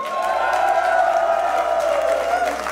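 A crowd at a rock concert in a large hall in Bochum cheers and claps steadily, a broad sustained roar with no single voice standing out.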